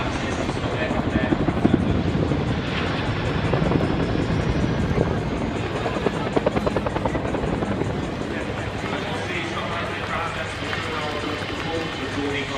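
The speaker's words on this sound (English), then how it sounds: "So coming in now about 100 knots, 110 miles an hour, the aircraft will stick the nose down, rotate on the axis and stop the aircraft there" A Chinook helicopter flying an air show display at the Red Bull Air Race throbs steadily with heavy rotor chop, loud and continuous throughout, with a commentator talking over it.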